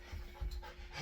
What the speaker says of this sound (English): You may hear him panting in the background from time to time because he's like pacing back and forth in the room.